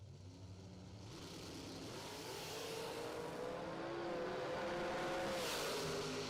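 Folk race cars on a race track accelerating together, a faint, distant engine roar that swells and builds steadily with rising pitch, heard alone without talk.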